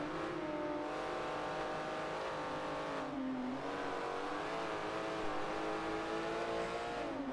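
Porsche Cayman GT4 Cup race cars at Sonoma Raceway, engines howling and shifting pitch as they brake and accelerate through the turns, a steady, loud flat-six drone with rising and falling revs and no voices.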